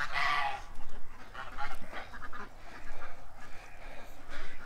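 A flock of ducks quacks at feeding time, bursts of loud, overlapping calls coming in uneven waves close by, with some fowl-like clucking mixed in and no voices.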